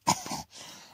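A single short cough bursts out near and fairly loud, followed by a softer rasping exhale as the throat settles.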